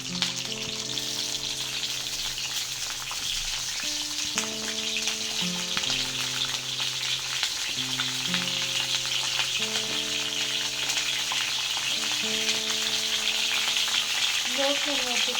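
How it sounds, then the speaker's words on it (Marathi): Chopped brinjal frying in hot oil for a restaurant-style masala dish, a steady broad sizzle running throughout under a layer of sustained tonal background sound. "आता आपण वांगी टाकणार आहोत। तेल तापलंय मस्त,"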